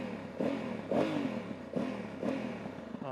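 A new Honda Africa Twin 1100 motorcycle ridden on wet, slippery asphalt in near-freezing cold, its engine note climbing and dropping through several rev surges in about three seconds, close and fairly loud with no talking.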